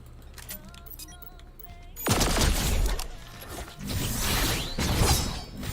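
Rapid bursts of pistol gunfire from a video game shooter ring out loud and close, crackling shots with mechanical clacks, following a quieter stretch of faint in-game sounds.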